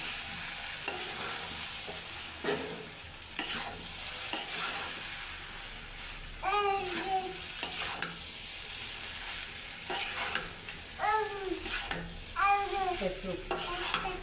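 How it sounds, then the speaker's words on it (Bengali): Noodles are stirred and tossed with spices in a hot pan, giving a steady scraping, clinking rhythm of utensil against metal over a soft sizzle, with a few louder scrapes near the end. "মিক্স করা হয়ে গেছে, ভালোভাবে মিক্স করে নিচ্ছি"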